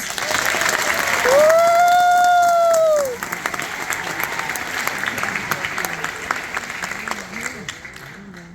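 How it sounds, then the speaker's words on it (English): Applause from an evening event audience as a speaker is introduced, a dense burst of clapping and crowd noise that starts loud, with a tonal sound over it, and then thins and continues more quietly. "let's give a round of applause for Daniel Wilkers."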